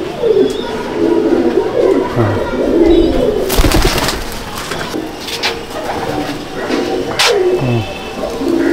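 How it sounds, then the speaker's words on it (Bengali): Madras pigeons cooing in a loft, a steady chorus of low, rolling coos with occasional sharper calls and a brief flutter, close and fairly loud throughout. "এটা হচ্ছে ম্যাড্রাস পায়রা।"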